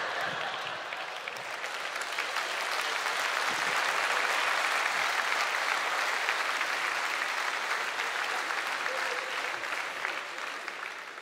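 Sustained applause from a live comedy audience in Coimbra, a dense wash of clapping that swells and holds steady for about eleven seconds, fairly close and with no talk over it.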